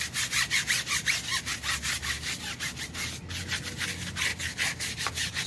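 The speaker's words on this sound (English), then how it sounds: "So, yes, I am scrubbing, and this is filthy" A cleaning product is scrubbed hard back and forth over a filthy surface, a rapid, even rasping rhythm of about three strokes a second, close and steady throughout with no talking.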